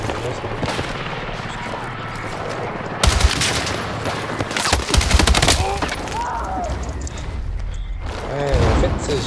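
Rapid gunfire from a newly picked-up weapon in the video game Battlefield 6, loud bursts of automatic shots clustered mid-clip over a dense battle soundscape, with someone talking throughout.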